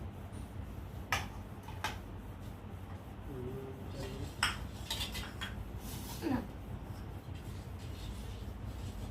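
Scattered clinks and taps of cutlery against plates as food is served at home, over a steady low background hum, a few distinct sharp knocks spread out across the stretch.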